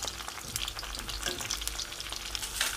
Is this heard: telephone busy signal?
no